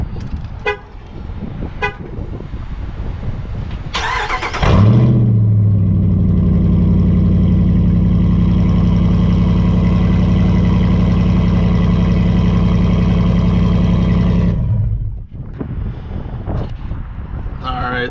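Dodge Ram pickup with its muffler removed, running straight-pipe: a loud, steady low drone holds for about ten seconds after a brief burst, bracketed by quieter idle and shop noise at either end.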